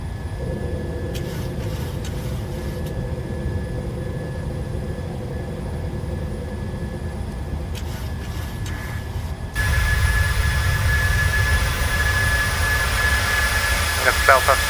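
Twin jet engines of a Boeing 737-700 in Microsoft Flight Simulator roar in a steady climb after takeoff, the drone growing louder partway through, with someone talking over it.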